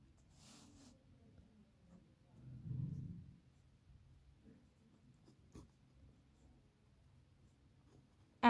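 Pen scratching on paper while a math solution is worked out, faint and intermittent strokes with a slightly louder stretch in the middle, close and quiet in a still room.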